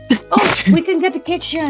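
Two quick sneezes burst out close to the microphone, followed by a person speaking casually indoors.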